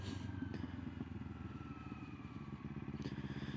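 A motorcycle engine idling and pulling away in first gear, a steady low pulsing rumble heard close throughout, with no talk.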